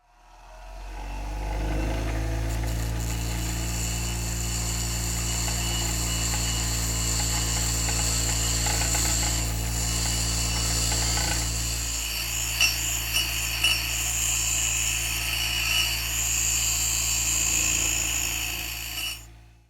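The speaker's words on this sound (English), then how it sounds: "just used the bench grinder to roughly shape the cutter" A bench grinder runs steadily as it roughly shapes a metal cutter for a tap and screw jig, giving a loud, continuous whine with a grinding rasp. The rasp roughens toward the end, then the sound cuts off.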